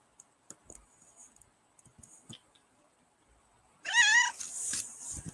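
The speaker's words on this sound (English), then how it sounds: "every time I go live, this cat starts" A house cat meows loudly and close by, a rising wavering cry followed by a second shorter meow, after a stretch of faint clicks and quiet rustling.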